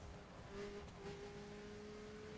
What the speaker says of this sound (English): Bit of a turbo whistle.